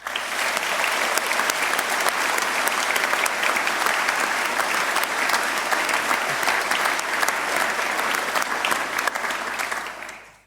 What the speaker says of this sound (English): I would like you to give them a round of applause